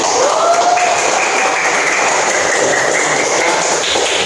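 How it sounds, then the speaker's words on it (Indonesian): Schoolchildren applaud in a dense, steady wash of clapping that holds evenly for a few seconds in a classroom. "beri aplaus dulu"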